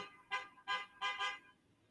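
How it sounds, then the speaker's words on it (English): Four short car horn honks in quick succession, faint and distant, as if from the street outside. "could you guys hear that car honk?"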